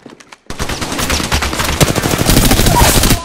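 Rapid automatic gunfire in the video game Apex Legends, a dense loud burst of shots after a short quiet lead-in, sustained to the end.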